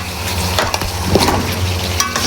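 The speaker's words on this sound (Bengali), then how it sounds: "এখন আবার কষাবো" Beef and potatoes sizzle in a hot pan while a utensil scrapes and clatters, stirring the pieces around.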